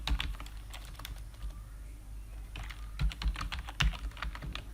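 Rapid, irregular clatter of keys on a computer keyboard as a domain name is typed, close and fairly quiet, with small bursts of several strokes and brief pauses, no voice.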